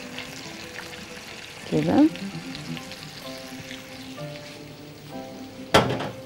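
Soy sauce simmers in a pan while meatballs with mushrooms are prepared: a steady soft sizzle and bubbling, with a louder splashy burst of frying near the start and another near the end. A voice speaks briefly.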